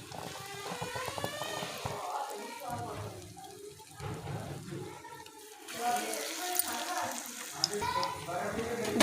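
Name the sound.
potato mince kebabs frying on low heat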